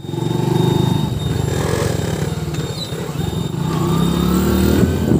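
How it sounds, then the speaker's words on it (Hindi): A Bajaj Pulsar 220F motorcycle engine revved hard while stationary, a loud, close, throbbing roar that holds steady and rises slightly toward the end. "तू इतना रेव मत ले"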